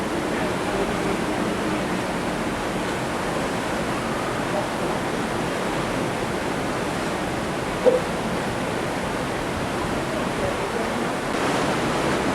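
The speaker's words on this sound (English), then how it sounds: "Milford Sound, and the waterfalls that are coming down are only occurring recently." Waterfalls pour down the cliffs of Milford Sound, a steady broadband rush of falling water heard from a distance, unbroken and even throughout, with one small knock partway through.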